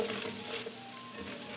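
Onions sizzling as they fry in melted butter in a pan, a steady close crackling hiss with faint stirring scrapes and no talking.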